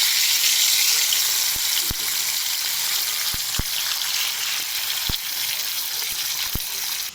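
Fish sizzles steadily in hot oil in a pan, a dense continuous frying hiss with a few sharp pops and crackles scattered throughout.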